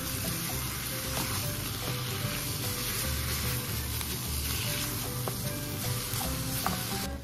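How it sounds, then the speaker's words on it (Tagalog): Ground beef sizzles steadily in a hot pan for Filipino-style picadillo, with a dense continuous frying hiss and occasional stirring scrapes, close and uninterrupted. "Haluin natin. Hintayin natin mag-brown yung ating ground beef."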